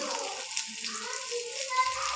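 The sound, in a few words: frying capsicum chillies in a pan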